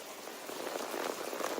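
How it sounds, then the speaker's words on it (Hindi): Heavy, torrential rain pours down near a railway station in the early morning, a dense, steady hiss of drops hitting surfaces, loud and continuous with no voices. "मूसलाधार बारिश हो रही है, मूसलाधार, खतरनाक वाली, बहुत ही तेज।"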